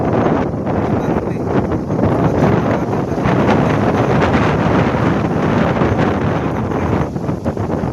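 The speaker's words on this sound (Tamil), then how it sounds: "பயங்கரமான காற்று." Strong wind roars continuously into the microphone, loud and buffeting with gusty rumble throughout, no voices.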